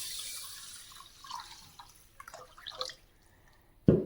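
Water poured into a bowl of 200 grams of jasmine rice before washing it for kheer, a soft broad splashing and trickling that fades over a few seconds before a sharper clatter at the end.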